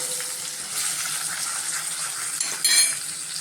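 Spiced drumstick and peanut curry is stirred in a pan, giving soft clinks and scrapes of a spoon over a faint sizzle, with a louder scrape near the end and no voices.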